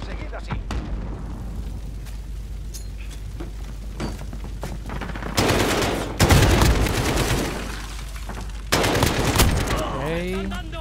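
Gunfire in Call of Duty: Modern Warfare multiplayer, with a steady background rumble broken by loud bursts of rapid shooting and booms, while a voice talks over the action.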